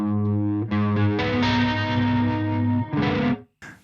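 Electric guitar played through the clean channel of an ENGL amp with a glassy effects sheen, sustained chords ringing loud and close for about three seconds before cutting off abruptly.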